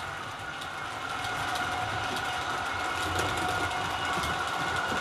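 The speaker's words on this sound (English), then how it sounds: "That's running the maintenance wagons, the Fleischmann crane," A model train pulls maintenance wagons and a Fleischmann crane along the layout, producing a steady rolling rumble with faint rail clicks and a continuous motor whine, fairly close and unbroken.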